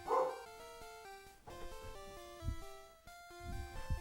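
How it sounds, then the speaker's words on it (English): A dog barks and yips repeatedly indoors at home, excited bursts in an uneven rhythm with whimpering tones, fairly close and moderately loud. "My dog's going crazy because, you know, my parents are home."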